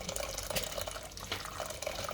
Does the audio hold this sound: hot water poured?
yes